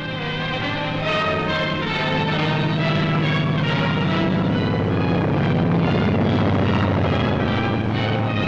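Navy planes landing on a short aircraft carrier deck while protecting a convoy, a loud continuous propeller-engine drone with layered harmonics that holds steady throughout.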